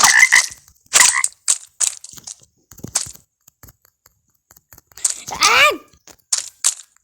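A frog croaks in short, loud bursts with gaps of silence between them, close by, and a few brief voices come in between the calls.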